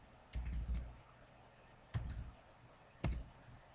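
Three separate short bursts of clicking on a computer keyboard, close and fairly quiet, with pauses between them in an otherwise quiet room.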